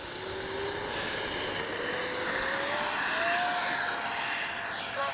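A Freewing T-33 80mm electric ducted-fan RC jet flies past, its high whining fan sweeping up in pitch as it passes, loud and continuous with a rushing roar throughout.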